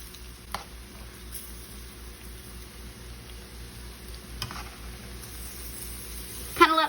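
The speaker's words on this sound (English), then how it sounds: "that telling sizzling noise coming from your freshly removed mushrooms" Freshly fried Korean crispy mushrooms, just lifted from the oil onto a paper-towel-lined plate, give off a faint, steady sizzle and hiss, with a couple of soft ticks and a louder clatter at the very end.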